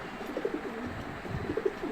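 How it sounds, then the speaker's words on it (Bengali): Racing pigeons kept for breeding coo in a loft, a few soft, throaty rolling calls repeated close by with a steady low background hiss and no voices. "অনেক কবুতর অনেক কবুতর রানিং কবুতর ডিম বাচ্চা করা কবুতর"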